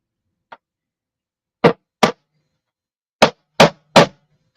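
A hammer taps on a Navion airplane in a hangar, a faint light tick followed by five sharp, separate metallic knocks spaced irregularly, each loud and close against otherwise quiet surroundings.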